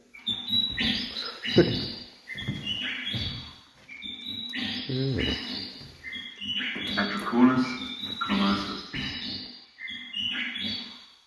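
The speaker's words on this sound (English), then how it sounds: "I'm guessing it's a lyra bird" A lyrebird calling at a wildlife visitor centre, giving a varied run of loud whistles, chirps and rapid trilled phrases with short pauses, close and continuous for about eleven seconds.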